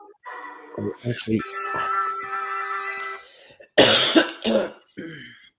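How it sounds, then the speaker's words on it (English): A few short hoarse coughs, then a voice, then a loud burst of harsh coughing and throat clearing close by. "oh, that's a bad cough."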